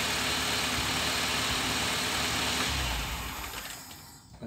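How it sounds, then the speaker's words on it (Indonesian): A Honda Jazz VTEC engine idles with a steady, close mechanical hum and low rumble, then the sound drops and fades away as the engine is switched off near the end. "Oke, kita matikan mesinnya."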